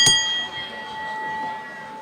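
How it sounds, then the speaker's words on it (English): Wrestling match bell rings once at the start of a bout, a sharp metallic strike that leaves a ringing tone fading out over a quiet arena background. "The bell sounds and we are underway."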